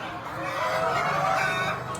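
Free-ranging laying hens clucking and murmuring continuously in a steady, busy chorus, fairly close, with a brief higher call right at the end and no talk.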